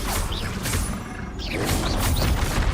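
A Bombarda spell blast in the Hogwarts Legacy video game, part of a rapid combo, comes as dense, loud whooshing bursts and booms layered over constant rumbling effects.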